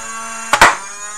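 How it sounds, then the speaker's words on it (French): Motor-driven Nerf Dinosquad Rex-Rampage foam blaster firing a single short pro dart: a close, sharp double burst of whirring and thump lasting under half a second, with no talking. "on va tirer une fléchette pro, donc une fléchette courte"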